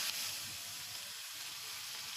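Rohu fish frying in hot oil in a wok gives a soft, steady sizzle with a faint airy hiss that holds evenly throughout, with no voices.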